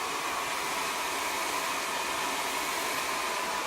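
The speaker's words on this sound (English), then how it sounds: "turn the air to cool on your hairdryer up" A steady, even rush of blowing air from a hair dryer on its cool setting, constant and fairly loud with no changes in pitch or level throughout.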